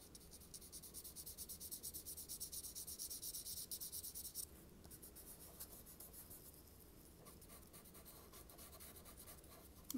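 Steady, fine scratching of a colored pencil on paper, close and soft, continuous for several seconds before easing into lighter, intermittent strokes.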